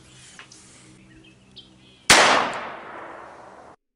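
A single .22 LR gunshot fired almost point blank into ballistics gel: one sharp, loud crack with a short decaying tail, preceded by a few faint clicks of handling.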